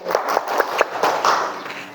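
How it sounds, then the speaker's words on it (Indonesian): Classmates applaud a student in a small classroom, a handful of distinct, uneven claps close by, with a little voice and movement around them. "Tepuk tangan untuk Novita Rani"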